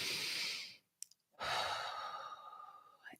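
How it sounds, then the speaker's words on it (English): Deep breathing exercise in a calm guided session: a long, loud exhale, a brief pause with a faint sniff, then a sustained breath that tapers off, heard alone with no talking. "We're going to take 5 deep breaths together."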